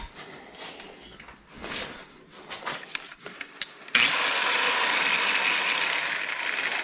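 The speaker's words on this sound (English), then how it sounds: "Grinder's going to be pushing towards us," Angle grinder cutting through the front bumper of a Jeep ZJ, starting with scattered clicks and handling noises before the blade bites in with a loud, steady high-pitched screech that holds to the end.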